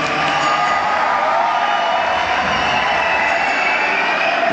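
A concert audience in Frankfurt cheers after a live performance, a loud, dense wash of crowd noise and whoops that stays steady for the whole stretch without pause.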